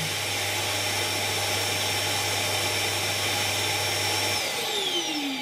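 A shop vacuum with an auto-start outlet keeps running steadily after the power tool is switched off, a loud, even whine and rush that then drops as the motor spins down.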